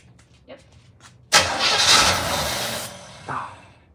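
A 1975 Chevrolet Monza with a 350 V8, first start in 12 years, cranks and catches with a sudden loud roar that runs about a second and a half before fading, followed by a brief later burst, with faint voices around it.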